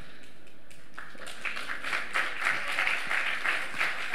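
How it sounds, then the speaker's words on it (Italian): An audience at the Sherwood Festival applauds guests at a talk on the climate crisis, steady dense clapping starting after a brief quiet moment and continuing to the end. "L'applauso è comunque meritato."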